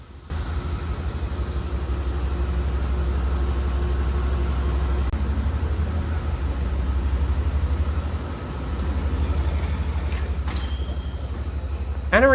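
Amtrak's Pennsylvanian passenger train rides across Pennsylvania with a steady low rumble inside the car and a brief dip midway, while a voice speaks partway through and a short squeal of brakes or wheels comes near the end.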